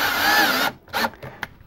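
A power drill with its clutch set low drives number 6 screws into a plastic soffit vent body, one steady whirring run of about two-thirds of a second, then a few short bursts and clicks, close and loud.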